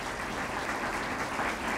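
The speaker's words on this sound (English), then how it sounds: "Let's give them a round of applause" An awards-ceremony audience applauds honored students, a steady dense wash of clapping that holds evenly for the whole stretch with no voices on top.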